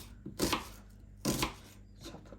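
Two firm knife strokes chop through an onion on a board, each a crisp close thud with a short crunch, followed by a fainter third cut; no speech.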